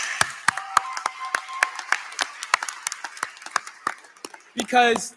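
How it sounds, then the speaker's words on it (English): At a high school commencement, graduates applaud their parents with scattered, distinct claps that build into a thin, uneven patter, followed by a person starting to speak at the end. "I need you to give them a round of applause."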